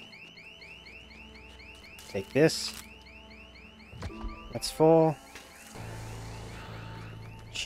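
A car alarm sounds in the zombie game Dead Island 2, a repeating chirping, wailing electronic tone that cycles steadily through the scene. Game noises and a voice break in over it.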